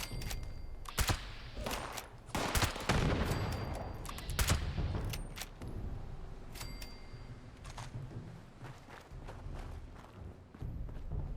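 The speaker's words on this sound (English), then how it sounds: "Doing some pretty good shooting here today, aren't we?" Repeated gunfire in the video game Fallout 76, sharp shots in irregular bursts with heavier clusters early on, over a steady background of game ambience.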